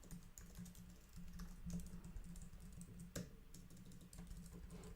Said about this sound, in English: I basically don't see what I'm typing